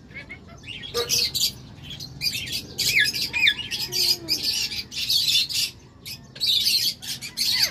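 An umbrella cockatoo squawks and chirps in repeated loud, close bursts at home, with quieter talk in the background between calls.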